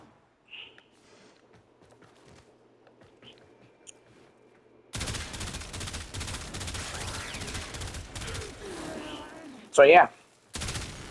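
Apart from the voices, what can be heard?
weapon gunfire hitting enemy in Warframe (video game)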